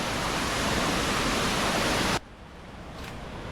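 A rain-swollen muddy stream near Anachadikuthu waterfall roars loudly and steadily, then drops abruptly to a softer, more distant flowing sound.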